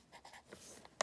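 Faint, close scratching of a pen or pencil writing by hand in a few short strokes, ending in one sharper tap, in a quiet room.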